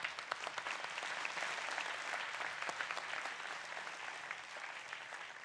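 Attendees at a city council meeting clap in a dense, even burst of applause, moderately distant and without talk over it.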